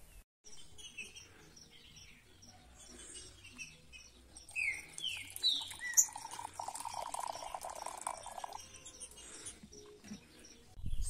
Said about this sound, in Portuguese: Uma das maiores dificuldades do trinca-ferro mansarrão é que esse pássaro está no processo de amansar.